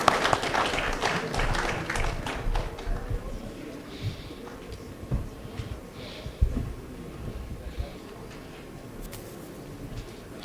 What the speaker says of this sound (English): A round of applause as they take their seats.